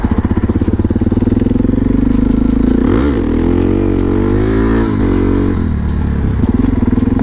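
A Suzuki DRZ400SM supermoto on street tires rides along loud and close, its single-cylinder engine thumping steadily with a brief rev change partway through before settling back to a steady drone.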